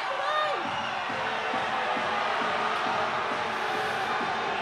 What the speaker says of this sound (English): The crowd are on their feet, jeering at Payette.